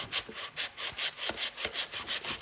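Sanding strokes on anodized aluminum trim for a K5 Blazer, a rhythmic back-and-forth rasp repeating about ten times in quick, even passes, close and steady with no talking.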